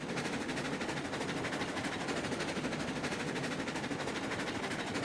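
A heavy train hauling lumber cars in Railroads Online rumbles steadily throughout, with a dense, continuous rattle and clatter of wheels on track, fairly loud and with no voices.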